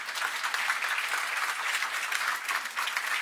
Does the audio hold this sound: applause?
yes